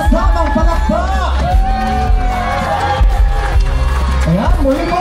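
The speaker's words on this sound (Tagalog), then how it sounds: "Marinig naman ang malakas na sigawa na may kasamang palakpak" Audience at a Christmas program in Calamba shouting loudly and applauding, a dense close roar of cheers and whoops with clapping mixed in, sustained for the whole stretch.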